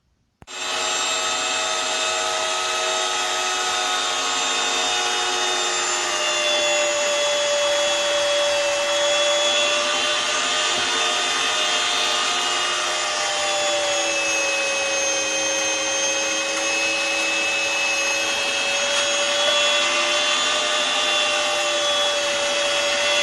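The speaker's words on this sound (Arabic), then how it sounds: "هون هلا راح ابدا طحن الحمص مع التومة والبصل" Chickpeas ground with garlic and onion for falafel in an electric grinder, a steady high motor whine with a churning rasp that runs unbroken and loud from start to finish.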